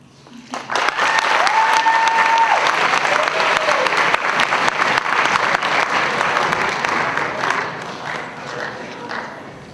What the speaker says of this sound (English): Everybody give him a big applause.